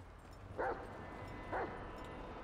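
Dog in GTA 5 barking while chasing someone, two short yips or barks about a second apart, fairly faint under steady game background noise.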